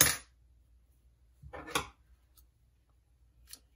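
Scissors snipping a long tail of crochet yarn, giving a couple of quiet, close snips and light clicks separated by silence.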